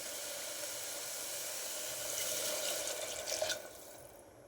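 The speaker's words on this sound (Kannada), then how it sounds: "ನೀರು ಹಾಕ್ಬಿಡೋಣ." Water pours into a cooking pot with a soft, steady trickle that swells into a brief louder splash near the end, faint and close, with no voices.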